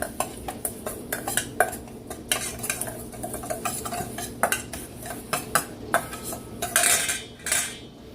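Breadcrumb mixture with avocado oil stirred briskly in a bowl, close-up, with repeated rhythmic clinks and scrapes of a utensil against the side, no speech.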